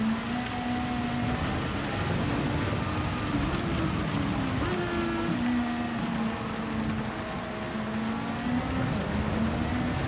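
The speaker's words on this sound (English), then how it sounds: "The rain came on so quick." Heavy rain pours during a wet race in a racing video game, a steady dense hiss heard together with the continuous whine of car engines throughout.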